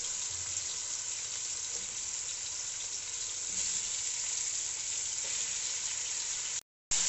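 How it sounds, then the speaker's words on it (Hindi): Chicken pieces sizzle on a high flame for pulao, giving a steady, loud frying hiss that carries on with no letup before cutting off suddenly near the end. "चिकन डाल के हम इसको 5 से 7 मिनट हाई फ्लेम पे फ्राई करेंगे।"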